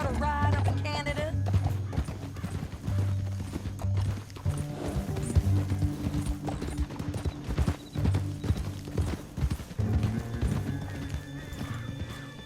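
Horse hooves clip-clop at a gallop in the Western video game Red Dead Redemption 2, steady rhythmic beats under game music with an occasional neigh, at moderate level and no clear speech.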